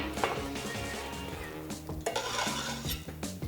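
Cut carrots for a Moroccan carrot salad are tipped into a bowl, giving a steady run of close scraping and soft clattering taps, with a few sharper knocks near the middle and the end.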